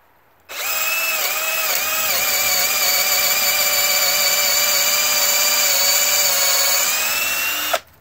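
A SCANS 20V cordless variable-speed drill bores through a 3-inch-thick block in one sustained high whine that starts abruptly, holds steady for about seven seconds and cuts off sharply.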